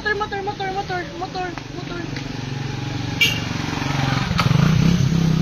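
A motorcycle engine approaches and grows louder toward the end, passing close by, while someone talks over it at the start.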